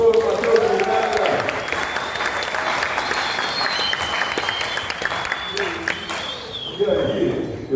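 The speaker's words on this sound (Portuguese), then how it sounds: "Salve de palmas, professor Matheus Miranda." Audience applause fills a talk-show panel on aerospace engineering, dense steady clapping from a room of listeners lasting throughout, with a few voices and sustained tones faintly underneath.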